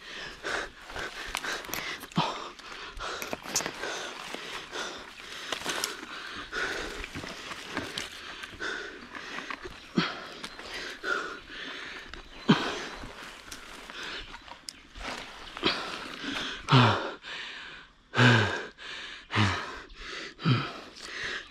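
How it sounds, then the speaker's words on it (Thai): Heavy, ragged panting and gasping breaths come from a man climbing during a honey hunt outdoors. The breaths are close and loud, with rustling and scuffing movement around them and no speech. "ขึ้นมาแค่นี้นะครับหอบแล้ว"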